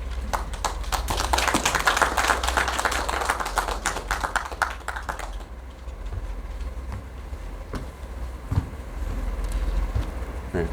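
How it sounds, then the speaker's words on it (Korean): Audience applause at a Korean memorial ceremony marking the 105th anniversary of the 1917 Declaration of Great Unity, a steady patter of many hands clapping over a low hum that fades to sparse claps and room noise halfway through. "큰 박수로 맞이해 주시죠"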